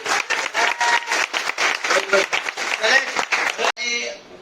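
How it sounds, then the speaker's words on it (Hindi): Rhythmic group clapping, fairly loud and close, in quick regular beats, cutting off abruptly near the end as a voice begins. "एक बार तालियां"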